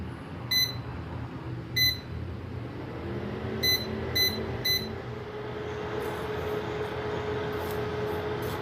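An induction stove being switched on to heat a pan for melting sugar, giving several short, high electronic beeps, single and in quick groups, over a low steady hum.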